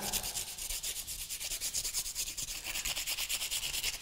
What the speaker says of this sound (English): all you need to do is literally rub that off with your finger